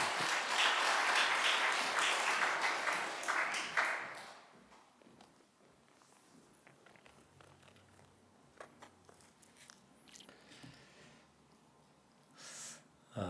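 A church congregation at a Sunday service breaks into loud, sustained applause to welcome the pastor, clapping for about four seconds before fading into quiet room noise with scattered faint taps and shuffles.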